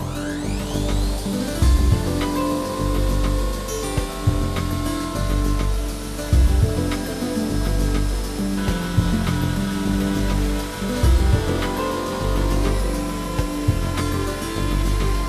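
A router plunge-cutting an Earthstone worktop with a continuous loud power-tool whine and a dense buzzing drone, holding steady with small dips as the cut goes on, no voices.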